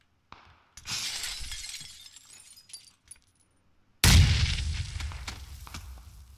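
Grenade blast in a multiplayer video game match, arriving suddenly as a single loud, close explosion with a crashing, shattering tail. Scattered smaller clatters and quiet game noise come before it.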